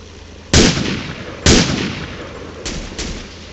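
Rifle shots from the PC shooter Marine Sharpshooter 4: two loud, sharp cracks about a second apart, each with a lingering tail, followed by two fainter, more distant reports.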